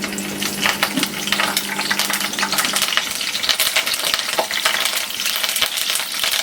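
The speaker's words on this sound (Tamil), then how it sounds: "இப்போ வந்து எண்ணெய் நல்லா சூடாகிடுச்சு கொஞ்சம் கருவேப்பிலை போட்டுக்கலாம்" Curry leaves crackle and sizzle in hot oil in a pan while prawn gravy is cooked, a dense, close spitting hiss with scattered sharp pops and no speech.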